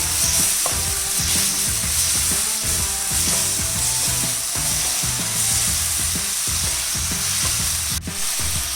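Chili powder and sauce being stirred into frying dragon chicken in a pan, a steady loud sizzle with repeated scraping stir strokes throughout, no voices.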